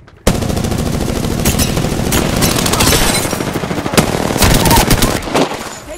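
Sustained automatic gunfire in Apex Legends, loud close rattling bursts firing almost continuously, with scattered sharper cracks layered on top.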